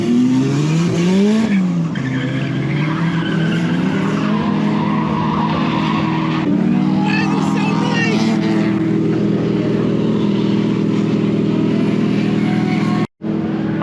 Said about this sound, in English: just step away from some of the drift stuff. Kind of hurt my ears.